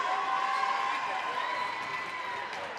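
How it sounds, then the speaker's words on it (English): A packed gym at a varsity boys basketball game between Southern Nash and Rocky Mount, with a steady roar of crowd noise and hyped student sections cheering, plus a sustained whistle-like tone, all heard continuously throughout. "I feel like I'm having to talk really loud to stay over this crowd as the student sections are really getting hyped"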